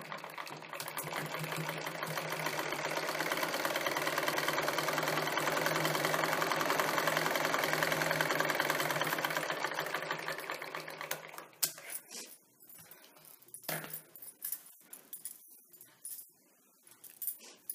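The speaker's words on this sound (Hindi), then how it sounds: "इसमें फिर डबल सिलाई करेंगे थोड़ी दूर में।" A sewing machine running a double line of stitching on a blouse, a steady rapid whirring that rises and holds for about ten seconds, then stops, followed by scattered light clicks and handling noises.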